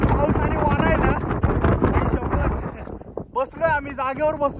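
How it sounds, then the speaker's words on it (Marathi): Strong storm wind with rain roaring across a mountain ridge above deep valleys, a loud continuous buffeting rush against the microphone that drops off briefly, while people talk close by. "हवा आहे ना तुफान चालली आहे"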